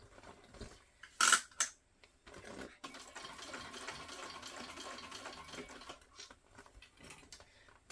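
A sewing machine runs a top stitch on a modified garment through thick fabric, with a sharp mechanical burst early on and then a steady whirring drone that slows and trails off near the end.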